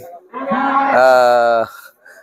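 Cattle at a karapan sapi bull race ground give one long, loud, close moo that rises and then holds steady for about a second, with quieter lowing before it and after it.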